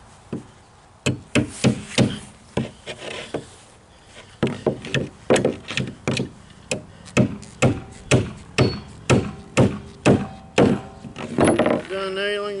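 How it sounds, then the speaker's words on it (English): Hammer nailing floor sheathing while building a shed, a steady series of sharp, loud blows in irregular bursts, with a short gap in the middle and brief talk at the end. "done nailing the floor in"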